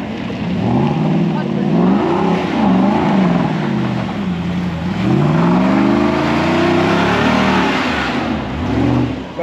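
A Land Rover engine labors off-road up a rutted dirt hill, revving and dropping in pitch repeatedly as it climbs, loud and close, with people talking over it.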